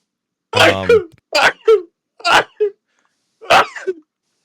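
A person sneezes several times in quick succession, close and loud, each burst sharp and breathy with short gaps between.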